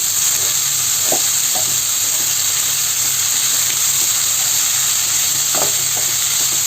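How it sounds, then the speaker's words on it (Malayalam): A banana flower thoran mixture sizzles steadily in a hot frying pan while being stirred, with a constant frying hiss and a few soft scraping strokes of the spoon, close and fairly loud. "ചേർത്തിട്ട് നന്നായിട്ടൊന്ന് ഇളക്കി മിക്സ് ചെയ്ത് കൊടുക്കാം"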